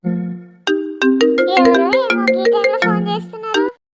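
A cheerful electronic phone ringtone plays a bright melodic tune of quick chiming notes, loud and close, stopping after a few seconds.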